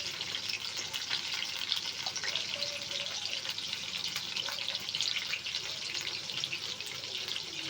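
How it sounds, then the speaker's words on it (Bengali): Lote fish pakoras frying in hot oil, a steady, dense sizzle that carries on without a break from start to finish, fairly close and fairly loud. "তাড়াতাড়ি করে ভেজে নিচ্ছি"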